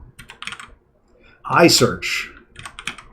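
Rapid clicking keystrokes on a computer keyboard while working in the Emacs editor, in uneven bursts under and between a man's speech.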